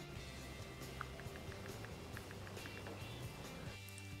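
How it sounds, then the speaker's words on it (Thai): iPhone 5c keyboard clicks on iOS 10, a quick series of soft, evenly spaced taps, fairly faint under steady background noise. "เสียงกีบอร์ดก็เปลี่ยนไปเหมือนกันนะครับ"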